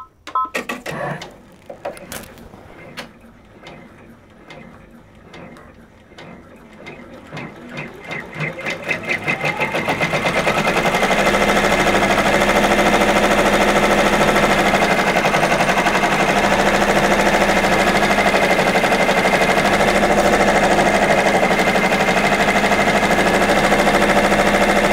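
Brother PR655 embroidery machine stitching out a design, first starting up with scattered clicks and speeding taps, then settling into a loud, steady, fast mechanical hum and chatter that holds for the rest of the run.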